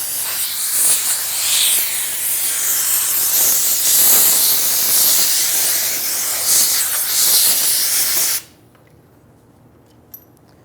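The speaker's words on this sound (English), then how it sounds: "use some compressed air and clean up the debris around here, the dirt, anything like that" Compressed air blasts debris and dirt off the top of a fuel tank on a 1994-2004 Ford Mustang, a loud, steady hiss lasting about eight seconds before cutting off abruptly into near silence.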